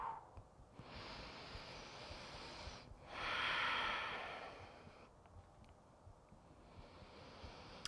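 Slow breathing during a home yoga practice, long soft inhales and exhales with a louder breathy swell in the middle, quiet and close.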